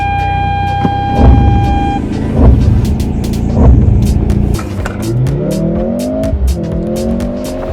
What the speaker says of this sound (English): Okay, so time to launch the C43 AMG.